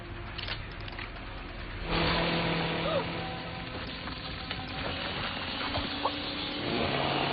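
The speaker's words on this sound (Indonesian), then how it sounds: "Melody mencoba untuk mengendarai mobil Sally dengan maksud menabrak Leatherface." A car driven hard in a scene from The Texas Chainsaw Massacre film, its engine note rising as it accelerates after a sudden jump in loudness near two seconds, with rumbling motion and scattered clatter under a dense film soundtrack.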